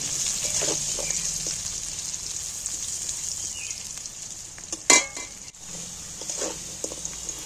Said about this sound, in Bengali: এইবার আমি তেলটার মধ্যে আলুগুলোকে একটু লাল করে ভেজে নেব